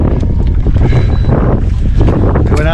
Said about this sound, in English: It's pretty windy today though,